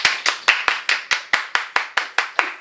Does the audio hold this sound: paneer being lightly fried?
no